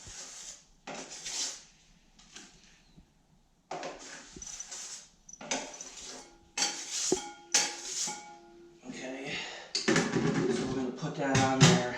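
Drywall mud scooped with a trowel for a skim coat during popcorn ceiling removal: repeated scraping and clinking strokes of the metal blade against a mud pan, irregular and close, with quieter pauses between scoops.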